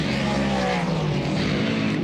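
World of Outlaws late model race car on the Georgetown Speedway dirt oval, a loud, close engine roar held steady as the car rolls through the turns, with no voices over it.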